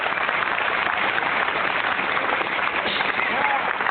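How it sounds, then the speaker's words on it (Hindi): An audience at an RCM business meeting applauds first-time guests, dense continuous clapping from a large crowd throughout, with voices faintly mixed in. "इस बार इनके सम्मान में जोरदार तालियां बजाएं।"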